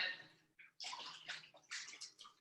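Coconut water sloshes inside a container as it is shaken by hand, a few uneven splashing bursts of liquid, close and moderately loud, with no talking.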